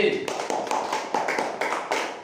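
A class claps for a student group in a lesson, a short run of sharp, rhythmic hand claps, fairly close and moderately loud, with a voice briefly heard at the start.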